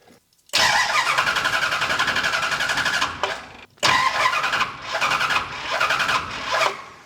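A 1969 Dodge Charger fitted with EFI cranks and fires, its engine catching and running unevenly with surges and brief dips, loud and close, likely suffering a timing issue.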